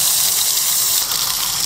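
Water gushes steadily and loudly from a motorhome's water filling point, a continuous close hiss of spraying flow with no pauses.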